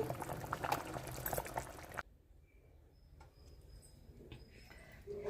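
Vegetable dal stew with brinjal, okra, drumstick and bottle gourd boiling in a clay pot, a loud bubbling simmer that cuts off abruptly partway, leaving quiet room tone with faint clinks.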